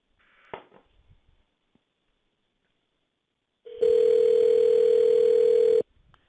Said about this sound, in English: it's dialing right now